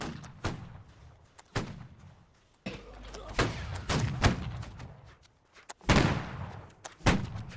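Musket volleys ring out in a Holdfast: Nations At War line battle, sharp loud reports and ragged bursts of fire at irregular intervals, some close and some distant, with voices calling out in between.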